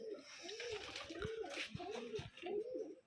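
A perched pigeon on a Rajshahi farm gives a run of rounded, rising-and-falling coos, one after another at close range, over faint clicks and rustling.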